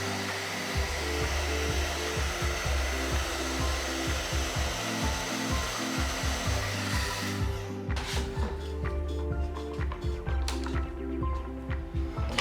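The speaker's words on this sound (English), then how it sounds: "I'm going to actually hit this with a little bit of air drying action just to heat up the area after I've applied some of this glue" A hair dryer blows hot air to warm freshly applied glue during a snowboard delamination repair, a loud, close, continuous whoosh with a steady drone, plus some irregular clicks and handling noises in the second half.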